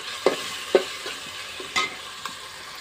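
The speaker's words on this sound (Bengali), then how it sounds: "শুকনো দারুচিনি, এলাচ, তেজপাতা এগুলো দিয়ে একটু ভালো করে কষিয়ে নিতেছি।" Ginger, garlic, dried cinnamon, cardamom and bay leaves frying in a pan, a quiet low sizzle with a few soft spoon knocks and scrapes spaced through it.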